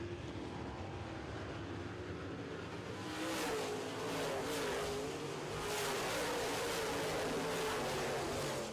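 Late model stock cars race around an oval track, their engines roaring in a continuous broad drone that swells as the pack passes nearer, heard from a distance.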